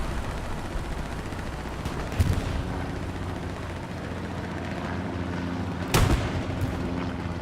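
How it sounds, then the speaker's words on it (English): Artillery fire in the video game Hell Let Loose during a competitive night battle at Remagen, two heavy booming blasts a few seconds apart over a constant low rumble of battle noise. "Artillery is right there."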